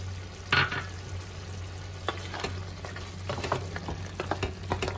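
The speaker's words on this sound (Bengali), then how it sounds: "এবার ভেজে রাখা বড়িগুলো দিয়ে দেবো।" Fried lentil dumplings (bori) go into a bottle gourd and poppy-seed curry in a pan, a faint, close sizzle with a brief clatter as they drop in, followed by soft stirring sounds and no talk.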